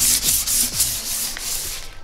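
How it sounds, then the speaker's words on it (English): Furniture piece being sanded ahead of painting, a steady abrasive rubbing in quick back-and-forth strokes, close and fairly loud with no voices. "So I'm finishing sanding these."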